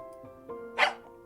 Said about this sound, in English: Something barked near my leg when we were crossing the schoolyard